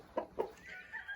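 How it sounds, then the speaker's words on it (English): Two quick, faint clucks from a chicken nearby, followed by a soft drawn-out squawk, with no talking. "I guess chickens have decided to visit"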